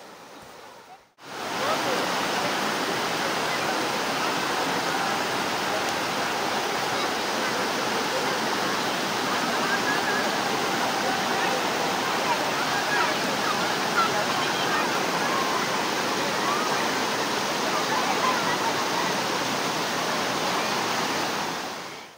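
Strong monsoon current rushing over Tara Dam in Purulia, a loud, steady, roaring wash of water that starts abruptly and continues unbroken, close by.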